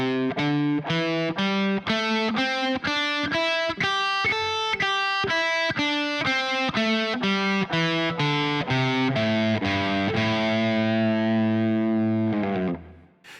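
Distorted electric guitar plays the minor pentatonic scale in shape 5, one picked note at a time in a steady, even rhythm, finishing on a sustained note that rings out; no talking.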